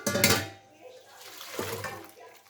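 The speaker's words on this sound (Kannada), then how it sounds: "ಇದನ್ನು ನಾನು ಇನ್ನೊಂದು ಪಾತ್ರೆಗೆ ಇದನ್ನು ಹಾಕೋತೀನಿ" Cooked prawns being moved into another cooking vessel, with a clattering of utensils against the pot at the start, a quieter stretch, then another scrape and clink.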